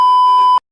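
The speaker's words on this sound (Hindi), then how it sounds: "हम बीप लगा देंगे" A steady, loud electronic censor beep covers profanity in a Hindi-language podcast, one continuous tone lasting about half a second before cutting off cleanly into silence.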